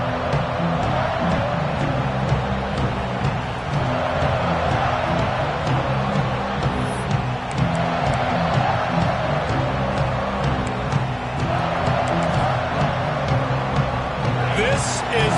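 Stadium crowd noise in a College Football 26 game, LSU hosting Tennessee, with a steady roar of cheering fans that swells at moments under continuous commentary voices.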